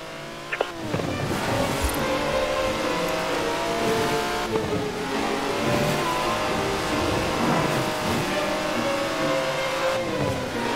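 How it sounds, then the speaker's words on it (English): A 90-year-old racing car in Forza Horizon 4, likely an Aston Martin, roars continuously as it drives, with rising and falling revs, gear shifts and a rough, loud engine note throughout. "That's a 90-year-old racing car."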